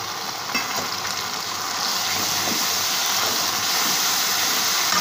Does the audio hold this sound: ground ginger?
yes